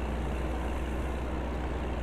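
A truck engine in American Truck Simulator gives a steady, even drone with no breaks or variation.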